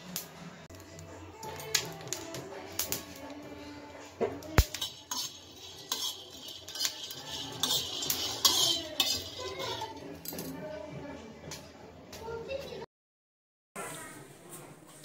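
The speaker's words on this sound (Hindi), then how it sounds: "मैं भून रही हूँ देखना भट्ट, काले सोयाबीन और क्या कहते हैं व्हाइट वाले सोयाबीन" Black and white soybeans are dry-roasted and stirred in a pan, giving repeated metallic scrapes and clinks of a spoon against the pan at close range, with occasional sharp knocks and a brief gap near the end.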